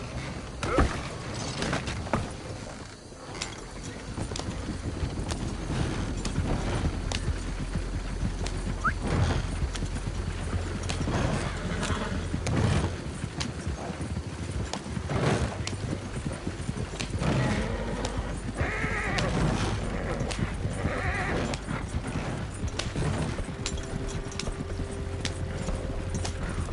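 Horse galloping in Red Dead Redemption 2, with rapid, rhythmic hoof clip-clops, creaking tack and an occasional whinny, close and continuous for the whole stretch without talk.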